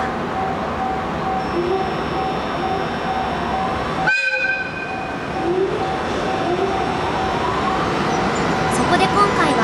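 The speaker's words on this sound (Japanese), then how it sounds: "土浦駅中線から引上げ線に向かう貨物列車です。" Freight train hauled by an EH500 locomotive at Tsuchiura Station on the Joban Line, heading from the middle track toward the shunting siding, rumbling steadily nearby with tonal squeals and a brief horn-like blast midway.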